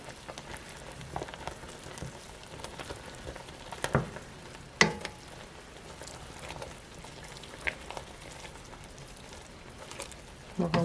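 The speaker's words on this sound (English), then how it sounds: "We'll let them sit just a little bit. Just sit and simmer." Chicken and dumplings simmer in a pot over medium heat with a soft, steady crackle and bubbling hiss, close up and fairly quiet, marked by occasional sharper pops.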